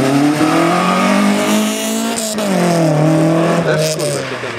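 Rally cars compete at the 23rd Rajd Niepodległości rally, round 5 of the SMB series, with a loud nearby engine roaring and shifting pitch as it accelerates and passes, plus brief tire noise.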